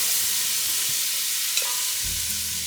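Diced onion, carrot and celery cook in melted butter in a pan, a soft continuous sizzle with a faint stir or clink partway through and no talking.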